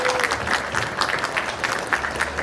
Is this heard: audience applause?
yes